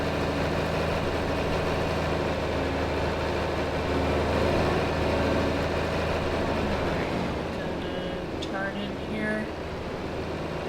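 A tractor engine idles and runs in Farming Simulator 25, a steady low rumble with a droning hum that holds throughout, under someone talking.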